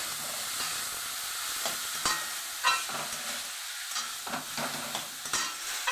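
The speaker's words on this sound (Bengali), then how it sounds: "এটাকে আমি এবার হালকা ভেজে নেব" Grated carrots lightly frying in a pan for carrot halwa, a steady close sizzle broken by repeated scraping stirs of a spoon against the pan, with no voices.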